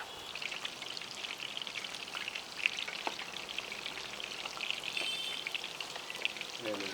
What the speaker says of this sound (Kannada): ಇದು ಗೋಲ್ಡನ್ ಬ್ರೌನ್ ಬರೋವರೆಗೂ ಫ್ರೈ ಮಾಡ್ಕೋಬೇಕಾಗುತ್ತೆ